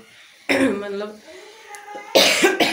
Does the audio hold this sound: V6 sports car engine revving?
no